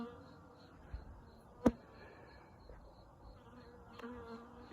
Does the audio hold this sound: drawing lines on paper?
no